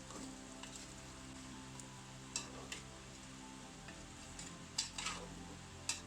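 Beef with spices stirred in a pot after the lid comes off, a faint low sizzle beneath occasional light scrapes and clinks of the spoon, quiet and close, without talking.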